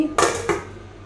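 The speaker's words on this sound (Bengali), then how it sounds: "আর চাটনির মধ্যে চামচটা পড়ে গেছে" A metal spoon drops into a bowl of chutney: two quick clinks, the first louder and the second softer, close by, with no talk.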